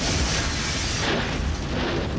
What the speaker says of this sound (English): When they set Grandma alight, it sets off an explosion